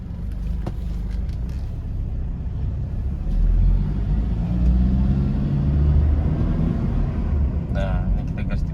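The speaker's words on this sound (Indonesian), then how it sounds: "ini kita gas di 2500, dia aktif lampu engine-nya lagi" A Toyota Innova diesel with a stalling fault and a lit check-engine light is revved and held around 2500 rpm, a close, steady low engine rumble that swells slightly midway while someone talks over it.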